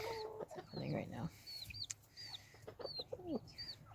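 Small young chickens cluck and chirp outdoors in a garden in November, with several short, quiet calls and rising peeps scattered over a few seconds alongside faint rustling.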